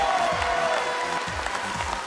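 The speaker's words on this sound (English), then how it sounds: "Let's give a round of applause for Dainara" Audience at a Filipino-American beauty pageant coronation night applauds steadily, a dense even wash of clapping filling the hall with faint crowd murmur beneath.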